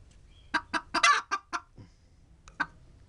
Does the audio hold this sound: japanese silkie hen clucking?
yes